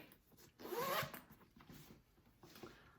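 A zipper on the pocket of a handmade sewn bag slides open in one quick rasping pull, close and clear, followed by quieter fabric handling.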